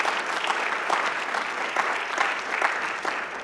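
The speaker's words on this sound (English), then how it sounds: "a round of applause for our classical students and alumni." Audience applause at a lecture event honoring classical students and alumni; dense, steady clapping from a room full of people, continuing throughout.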